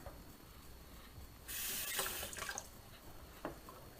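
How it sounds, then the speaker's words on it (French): Red lentils poured into a pan of water, a close rushing hiss and pattering of grains for about a second, then a few scattered small splashes and taps. "Pas de sel et vous versez directement vos lentilles corail."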